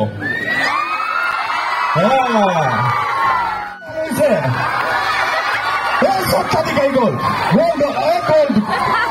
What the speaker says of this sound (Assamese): আমাৰ ল'ৰা ছোৱালী একদম চিঞৰি চাইবিলাকক উৎসাহ দিব